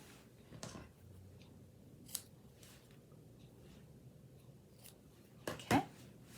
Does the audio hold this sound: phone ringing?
no